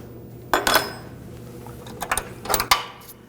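Metal clinks and ratchety clatter come as a nut is worked off an Audi S4 front control arm, two short bursts of tool-on-metal clicking separated by a quieter pause.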